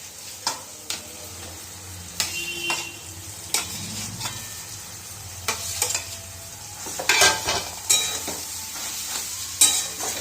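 Grated potato being stirred into a sizzling filling for Bengali egg chops, with scraping spatula strokes and clinks against the pan over a continuous close fry.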